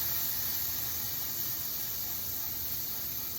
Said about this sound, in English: put it on there, and then you'll hear that nice sizzle